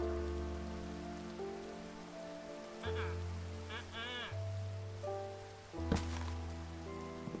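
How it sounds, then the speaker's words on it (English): Rain falling in the video game Minecraft, a soft steady patter of drops with tonal game music and other in-game sounds layered over it, fairly quiet throughout. "Rain in Minecraft is as dangerous as, nighttime."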